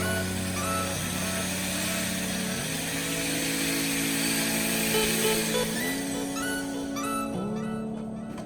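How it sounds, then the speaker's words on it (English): A power drill bores holes into a vending machine, its motor whining continuously and loudly with several pitch dips and recoveries as the bit bites and loads up, close by with no talking. "whenever I make the holes with the drill"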